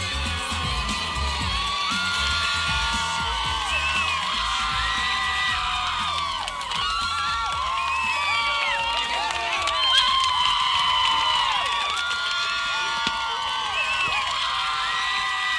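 Audience clapping and cheering mixed into a music video, a dense, steady crowd roar with whoops and shouts running loud throughout.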